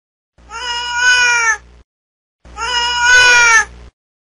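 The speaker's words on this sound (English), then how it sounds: "Cat." A cat meows twice, clear and close, each meow long and drawn out with a short silence in between.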